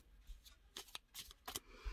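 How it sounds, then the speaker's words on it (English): Quiet, close riffling of oracle cards being shuffled in a few quick bursts, soft and papery with no speech. "I'm just going to give it a little shuffle."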